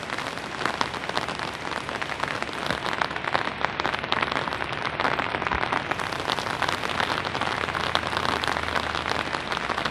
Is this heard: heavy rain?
yes